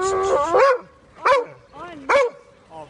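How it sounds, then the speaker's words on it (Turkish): A dog gives three loud, whining barks with pauses between them, close by, with a short yelp trailing at the end. "Bir havla yüksek sesle."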